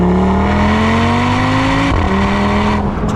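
Audi RS3 engine revving hard and loud, its steady rising tone climbing through the revs, briefly dropping at a shift, then climbing again.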